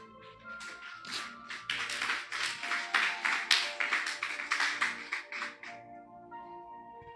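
Congregation clapping hands together during a church sermon: a steady run of sharp, rhythmic claps from many people, close and fairly loud, building quickly and then fading out.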